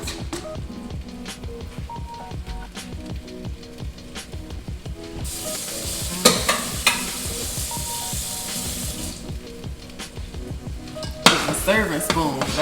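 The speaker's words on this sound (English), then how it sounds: "Some potatoes thickening, I hear it." Potatoes thickening as they cook in a pot, with a steady bubbling and sizzling, scraping stirs and clanks of utensils throughout, close and continuous with a few louder knocks.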